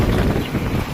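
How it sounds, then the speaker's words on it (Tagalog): Strong wind roars steadily into the microphone, a dense low rumble with gusty buffeting throughout and no voices. "Daluyong ng hangin na napakalakas."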